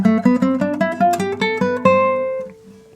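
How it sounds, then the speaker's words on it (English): Guitar playing a straightforward major scale in the E-form CAGED fingering, about a dozen single plucked notes stepping in even rhythm, clear and close, the last note ringing out alone. "A pretty straightforward major scale"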